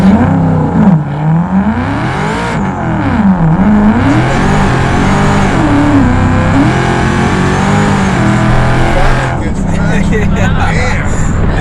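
A Hennessey-tuned 1000 HP Dodge Challenger Hellcat launches from a standstill, its engine roaring loud and close as revs climb and drop through several shifts before easing off, with voices reacting near the end.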